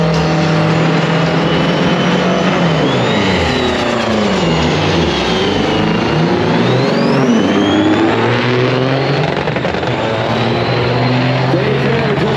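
A 1950 GMC Fat Cab truck with an 8V92 twin-turbo diesel roars loudly under acceleration at a pulling event, engine pitch rising and falling through heavy revs over about twelve seconds, close and continuous.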